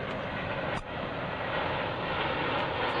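A C-17 Globemaster III transport aircraft flies during an air show demonstration, its engines giving a steady, loud, broad roar that holds through the whole stretch.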